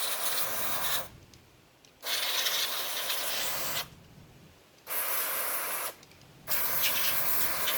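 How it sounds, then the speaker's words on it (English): Electric parts cleaner sprayed from an aerosol can into a 2000 Toyota Sienna turn signal switch: three loud, steady hissing bursts of a second or more each, with short quiet pauses between, close to the nozzle and free of talk. "shake the bottle very good and spray the parts cleaner pretty good"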